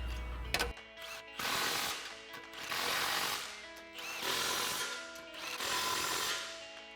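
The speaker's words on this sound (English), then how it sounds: "We have our impact and 15mm socket." An impact wrench with a 15mm socket tightening exhaust clamps on a 2024-2025 Mustang GT, firing five loud, rattling bursts of about a second each, separated by short gaps, after a sharp clack at the start.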